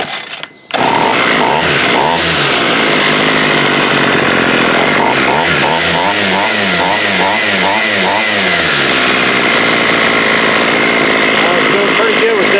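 A Homelite weed eater's two-stroke engine runs loud and continuous while its idle is adjusted, the pitch wavering and revving up and down before settling into a steady buzz.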